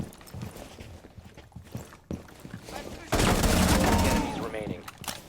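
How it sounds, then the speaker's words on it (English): Gunfire in the video game Rainbow Six Siege: scattered shots and footsteps at first, then a loud sustained burst of rapid automatic fire midway, trailing off into quieter game noise. "I go see there's more people I can go shoot"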